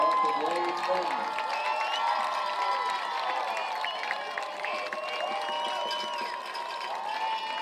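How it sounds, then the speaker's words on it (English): A crowd in the stands at a high school football game between Foothill and East Bakersfield applauds and cheers, with overlapping shouting voices and children's calls over continuous clapping. "let's everybody give a round of applause to these esteemed members of the Blade family"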